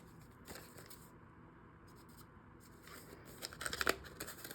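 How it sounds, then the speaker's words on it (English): Scissors trim a strip of vellum paper for a craft accordion pocket. Quiet paper rustling leads into a short cluster of soft, close snips near the end. "So let me just cut that down a little bit more and put that in here."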